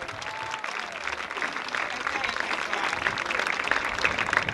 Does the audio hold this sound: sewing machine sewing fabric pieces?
no